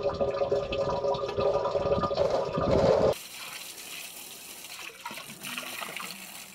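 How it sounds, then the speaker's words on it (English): Gray water from an off-grid cabin pours into a drain filter system, a loud close gush and trickle for about three seconds before cutting off abruptly to a quieter outdoor background. "This is the gray water drain system."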